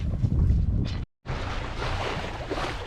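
Wind roars steadily across a sailboat under a partly filled gennaker on the open sea en route to the Maldives, a loud, constant buffeting rush with one brief silent dropout.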